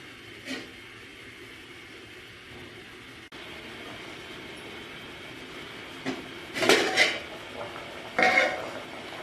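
A metal lid set back onto a pot of cooking peaches gives a few close clanks and rattles near the end, after a stretch of quiet kitchen background.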